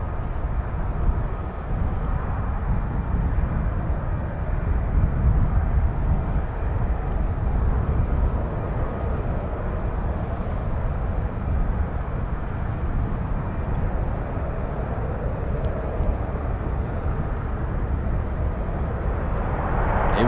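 A pair of F-35B stealth fighters departing from an air station fill the air with a continuous, loud broadband jet roar that holds steady throughout, with no voices heard.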